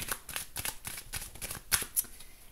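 Tarot cards being shuffled by hand in a series of quick riffling bursts, with crisp papery flutters and two sharper snaps near the end, close and clear with no talking.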